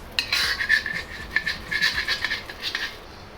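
Crispy pan-fried beef noodles scraped and lifted from a pan onto a plate, a run of close metallic scraping and clinking from utensils against the pan, fairly loud and irregular.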